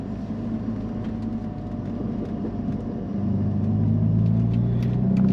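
Steady low engine rumble of a car driving, growing slightly louder and deeper toward the end, with no talking.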